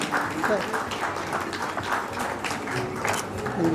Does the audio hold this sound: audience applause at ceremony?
yes